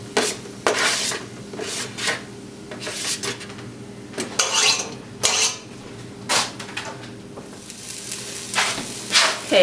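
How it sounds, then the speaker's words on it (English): Onions fry in oil in a pan with a soft, continuous sizzle, overlaid by repeated scraping and clattering strokes of a utensil stirring them at an uneven rhythm. "And then we're going to fry up some onions."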